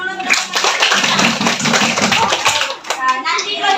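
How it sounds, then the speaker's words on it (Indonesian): Children in a classroom clap together in a brisk, dense burst that fills the room, with kids' voices mixed in before the clapping thins out near the end. "kasih tepuk tangan dulu"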